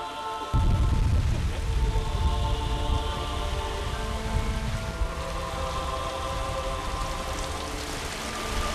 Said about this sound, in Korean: 세차게 비가 쏟아집니다